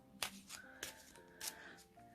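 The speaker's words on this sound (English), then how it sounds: "So I'll just give them a quick shuffle." A deck of tarot cards is given a quick shuffle up close, producing a few soft, papery riffles and flicks that are faint and brief.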